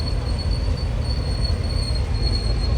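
The Tirupati Express rolls along the rails with a sustained high metallic squeal from its wheels over a loud, steady rumble of carriages, close by and with no speech.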